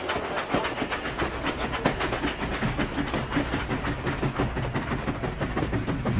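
An animated train rolls along a railroad track after repairs, with a steady rhythmic clickety-clack of wheels and a continuous hiss, loud and up close with no talk over it.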